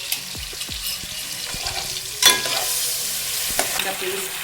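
A steady sizzle of onions frying in a pan, with occasional scraping and stirring clatter, heard up close and alone.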